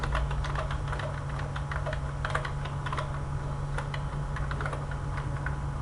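Steady, fast typing on a keyboard while production figures are entered into an Excel spreadsheet, a continuous patter of close key clicks over a low constant hum, with no speech.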